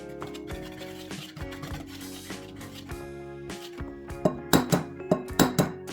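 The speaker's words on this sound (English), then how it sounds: "Whisk together 240 grams of flour, 2 teaspoons of baking powder and 1 teaspoon of salt." A whisk works flour, baking powder and salt together in a bowl, with scraping and ringing clinks against the sides that turn into a sharper run of evenly spaced taps near the end, with no talking.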